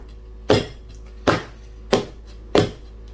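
A cake pan filled with cherry cake batter is tapped against a surface four times at an even pace, each knock sharp and close with a short ringing decay, and no talking is heard.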